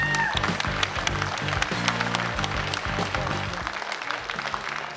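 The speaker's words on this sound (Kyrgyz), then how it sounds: "Кол чабуулар." A studio audience at a comedy entertainment show applauds with a continuous scatter of hand claps, mixed with a repeating musical tone in the background.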